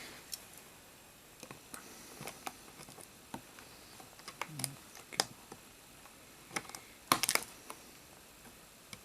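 Scissors snip through plastic cable ties holding a Masterverse Frosta action figure in its toy packaging, giving sparse, quiet clicks and ticks with a sharper snip near the end, close by and with no talking.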